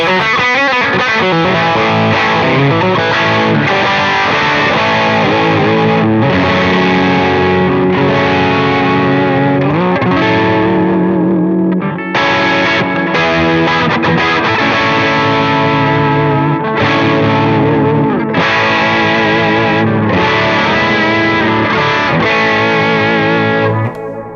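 Heavily distorted electric guitar through a Sleep Champion Horse Cult pedal plays chugging riffs and sustained chords, loud and continuous with brief pauses, with a thick, saturated tone.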